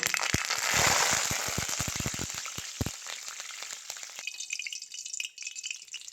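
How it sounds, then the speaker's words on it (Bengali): Crackling spatter of curry leaves frying in hot oil, loud at first with sharp pops, then settling into a quieter steady sizzle. "কারি পাতাগুলো কিন্তু ভাজা হয়ে গেছে এবার আমি তুলে নেব"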